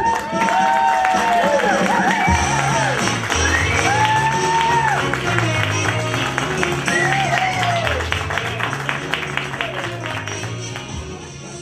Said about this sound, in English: What a crowd, what a crowd